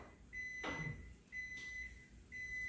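A kitchen timer beeps in repeated long steady tones over a quiet room while corn boils on the stove, with a brief clatter near the start.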